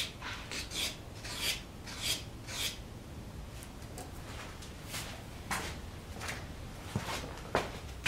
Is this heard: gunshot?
no